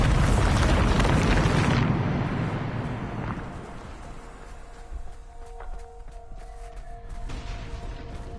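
A Bombarda explosion spell in Hogwarts Legacy lands with a loud, deep blast that roars for about two seconds, then fades into a long rumbling tail with faint debris and small clatters afterward.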